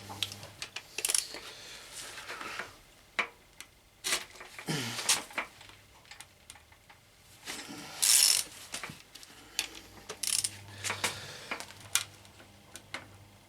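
A ratchet with a socket loosens tight bolts on a BMW K1200 motorcycle engine during crankshaft and piston removal, giving irregular bursts of sharp, close metallic clicks and clanks over a low background hum, with no talking.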